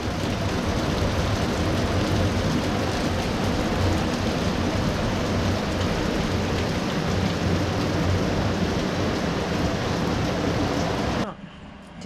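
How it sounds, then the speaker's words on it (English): Steady heavy rain falling on a morning in Portland, Jamaica, a dense continuous wash with low rumbling underneath that may be thunder, lasting until it cuts off near the end. "Rainy morning"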